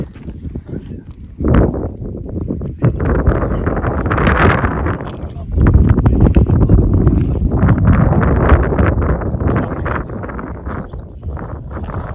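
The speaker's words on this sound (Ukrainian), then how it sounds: "якраз і вітер піднімається" Gusty wind buffets the microphone at a corn field during a drought, producing loud, low rumbling bursts that rise and fall, with faint outdoor sounds underneath.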